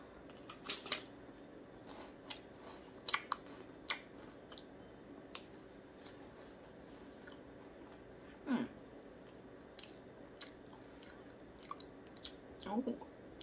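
Crunchy bites and chewing of a store-bought honey cinnamon wafer snack, sparse crisp crunches spaced out over quiet stretches, close to the mic, with a person's voice faintly present.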